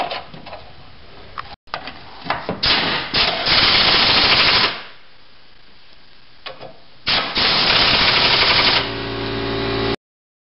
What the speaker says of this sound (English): then you can just finish them off with an impact